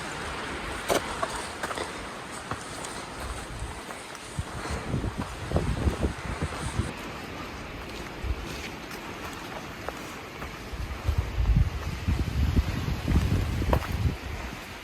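Cold wind gusts along the Appalachian Trail on a mountain stretch, buffeting the microphone in loud, uneven rushes that swell and ease over a steady roar, with occasional rustling.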